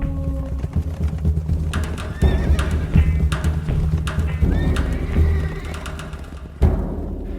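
Horses gallop with heavy hoofbeats and loud neighs and whinnies, close and busy throughout, with birds chirping faintly behind.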